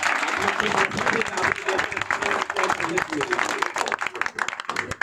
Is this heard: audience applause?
yes